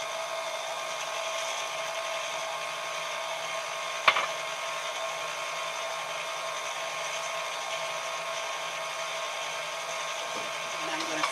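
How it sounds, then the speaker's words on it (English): An electric mixer whirs steadily through chocolate coffee cake batter, a constant even hum with one sharp knock near the middle. "you need to stop your mixer every so often and do make certain that the bottom is well blended"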